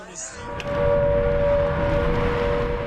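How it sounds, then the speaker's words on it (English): A steady, sustained air raid siren tone drones on over a noisy, rumbling background at RAF Akrotiri, Cyprus, holding level for several seconds. "In Cyprus, sirens sounded this morning at RAF Akrotiri."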